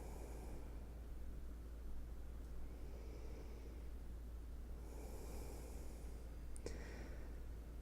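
Slow breathing during a yin yoga session, soft drawn-out breaths barely rising above a steady hum, with one faint click.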